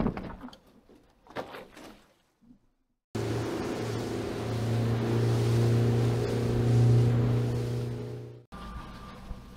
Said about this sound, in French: tu vois le concept qui vient coller ton Zodiac là